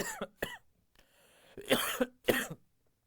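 Several sharp coughs from one person close by, two short ones, a pause with faint breathing, then two louder, harsher bursts before fading to quiet.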